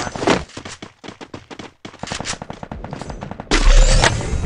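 Rapid automatic gunfire in the Free Fire mobile battle royale game, several quick bursts of close shots with short gaps, ending in a louder sustained stretch of firing.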